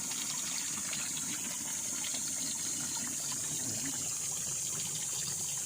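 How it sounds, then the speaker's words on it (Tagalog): Water from a spring beside a river running steadily in summer, a constant hissing, gushing flow close by with no breaks and no voices. "Tuloy-tuloy ang agos ng tubig kahit tag-init."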